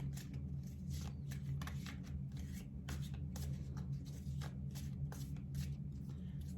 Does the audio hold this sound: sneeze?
no